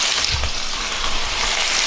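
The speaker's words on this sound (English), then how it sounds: "but we're just frying it up." Beef heart fries in a pan with a loud, close, steady crackling sizzle throughout the short stretch.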